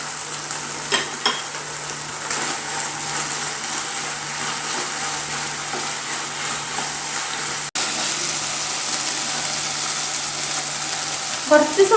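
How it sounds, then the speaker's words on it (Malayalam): Garlic sizzling and frying in a hot pan for a Chinese-style beef curry, a steady broadband hiss running throughout, with occasional stirring clinks and a brief sharper spatter near the end. "നമ്മൾ ഈ സമയത്ത് നമുക്ക് ഗാർലിക് ഇട്ട് കൊടുക്കാം."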